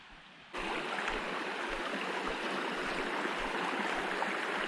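River water rushing steadily through a remote mountain stream, a continuous broadband flow that starts abruptly and stays loud and close, with no voices.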